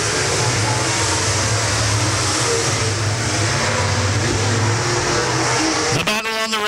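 MARS late model race cars roar around a dirt track during a heat race at Springfield Raceway, a loud sustained engine drone that swells as cars pass, with a commentator talking over it.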